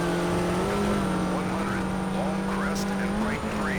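A diesel raid truck with a 4,000 RPM redline in the video game Colin McRae: DiRT drones loudly and steadily, its engine note holding nearly constant with slight pitch shifts.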